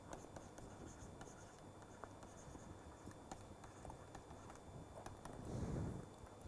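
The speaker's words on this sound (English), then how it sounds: "I might as well write it here" Very quiet, steady scratching of writing on a board during a lecture on turbulent flow, with faint taps and a soft rustle near the end.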